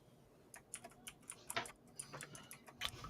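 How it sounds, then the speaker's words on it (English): Fingers type on a mechanical keyboard with quick, irregular clacky keystrokes that come in short bursts, faint and close, with no voices. "whoever's got the awesome mechanical fucking keyboard, I love hearing that clackety clack clack clack"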